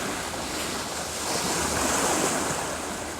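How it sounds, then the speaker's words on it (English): Strong sea wind rushes across the microphone while waves surge and break nearby, a loud, steady roar that swells slightly midway, with no voices. "the humid wind from the sea is really, really freezing when it hits your face."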